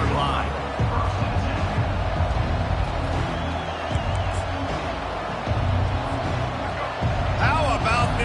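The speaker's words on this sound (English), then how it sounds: "How about this crowd rattling the rafters and trying to help their defense?" A packed stadium crowd roars steadily to support the defense at a Miami vs NC State college football game. A commentator talks over the dense, sustained noise.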